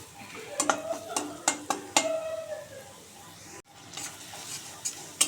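Spicy chilli-laden fish paste sautéing in a pan, with a steady background sizzle and repeated sharp clinks and scrapes of a spatula stirring against the metal, audible throughout with a brief dip midway.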